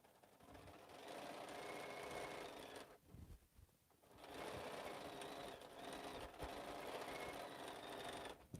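A sewing machine back stitches a slouch bag, running in a steady whirring stretch, pausing briefly, then resuming with a continuous motor hum and rapid needle chatter, close and alone.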